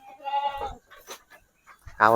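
Goats in a goat pen bleating in short wavering calls, two bleats close by separated by quiet gaps and other faint noises.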